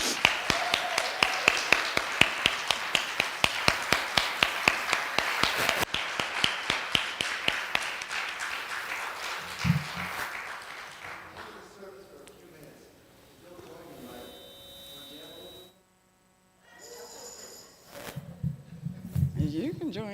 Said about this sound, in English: we could just give Patrick another round of applause, please.